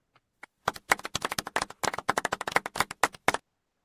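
A short burst of golf claps in a trading livestream, with a few quick dry hand claps rising into a brisk run of soft, close claps that stops after about three seconds.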